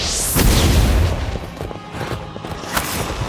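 The Confringo spell explodes in the video game Harry Potter: Magic Awakened, a loud booming blast followed by crackling, rumbling debris and scattered sharp bursts.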